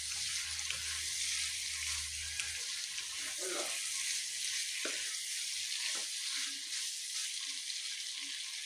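Chicken pieces frying in oil with crushed ginger and garlic added, a steady soft sizzle running throughout with a few brief stirring clatters, close and moderately quiet, no talking.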